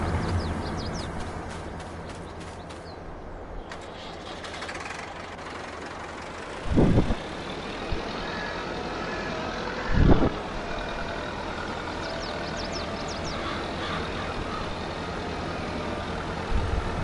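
A combine harvester unloading grain on a Southeast US farm drones steadily, with a run of high beeps early on and a couple of short louder bursts over the engine rumble.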